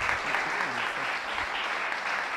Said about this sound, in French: D'accord, on l'applaudit s'il vous plaît.